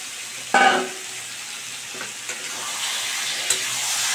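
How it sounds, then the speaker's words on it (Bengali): Yogurt-marinated chicken sautéed with spices in a pan for a Bengali curry, a continuous close sizzle with a sharp clatter of stirring at the start and a few lighter scrapes later, no talking. "দেখুন খুব ভালো করে আমি কষিয়ে নিচ্ছি"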